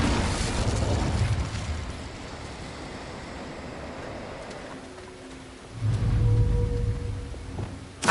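Incendio fire spell cast in Hogwarts Legacy, a loud whooshing, roaring burst of flame heard twice, once at the start and again near the end, over a rumbling game soundscape with no talk.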